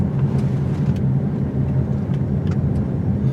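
A 2017 Lincoln MKZ luxury sedan moving through a tight turning circle, with a steady low engine and road drone that holds evenly throughout and no voices.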